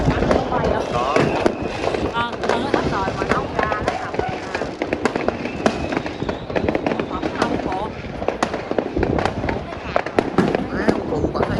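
New Year 2024 fireworks go off close by in dense, continuous cracking bursts, loud throughout, with people talking and exclaiming over the blasts.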